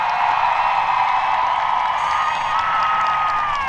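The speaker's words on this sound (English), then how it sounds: "Give them another round of applause." Graduation crowd at East Hartford High School cheers and applauds in a large space, a sustained wash of voices and whoops with scattered clapping, loud and even throughout.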